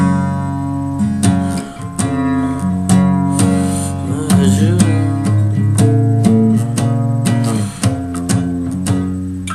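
Guitar playing a riff, a run of plucked notes and chords with clear attacks and sliding pitch moves, loud and steady with no voice over it.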